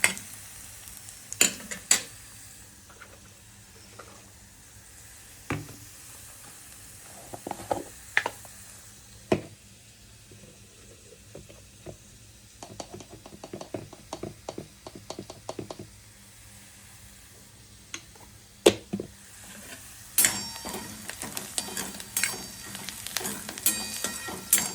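Poha with turmeric being stir-fried in a pan: a soft sizzle runs beneath repeated scrapes and clinks of a spatula against the pan, in irregular bursts that get busier toward the end. The sound is close and moderate, with no talking.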